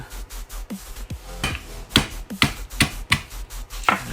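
Ginger being cut with a knife on a board for chicken curry, a series of about ten sharp close chops in an uneven rhythm, crisp and distinct against a quiet background.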